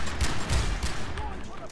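A big gun fires in the video game Far Cry 3 as a quick burst of booming, overlapping shots close up that fades into rumble, while people talk over it.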